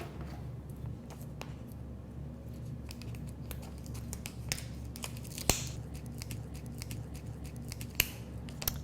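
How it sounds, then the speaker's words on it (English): Scissors snip through an ostomy barrier strip in a few sharp, brief cuts over a low steady background hum, close by and fairly faint. "I'm actually going to cut a little piece off here."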